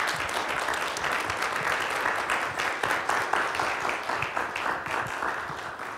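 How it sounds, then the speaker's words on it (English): Audience applause after a Christmas story play, steady dense clapping filling the room for the whole stretch with no voices. "Give them another round of applause"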